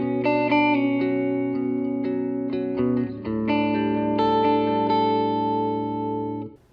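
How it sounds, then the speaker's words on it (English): Clean single-coil electric guitar notes and chords ring out with reverb and delay, shimmering and trailing echoes, sustained and clear, played alone without any voices. "that's that single coil sound that you're hearing there"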